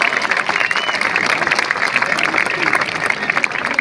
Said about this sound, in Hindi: एक बार मेरे कहने पर आप जोरदार तालियां बजाओ